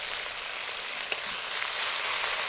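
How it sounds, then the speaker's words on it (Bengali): Garlic paste added to onion and ginger frying in oil for a Bengali chicken dish, producing a constant close sizzle with one brief tap partway through and a slight swell toward the end. "আর দিয়ে দেব রসুন বাটা।"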